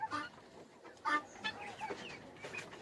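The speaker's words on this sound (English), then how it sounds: "This is a video of me rearing my first layer chicken." Layer chickens in a crowded pen cluck and squawk in a busy, overlapping chorus, at moderate volume and close by, with no talking.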